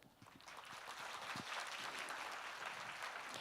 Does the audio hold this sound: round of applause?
yes